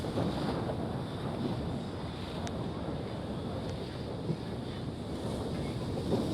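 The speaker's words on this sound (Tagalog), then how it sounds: "Medyo maalon yung dagat." Rough sea churns against a boat crossing open water while strong wind buffets the microphone, a steady dense roar with occasional small knocks and no voices.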